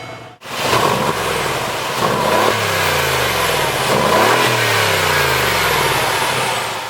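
A Mercedes-Benz G550 4x4 Squared engine cranks and fires up, then revs up and down twice with a rising and falling roar before settling into a steady idle, heard up close.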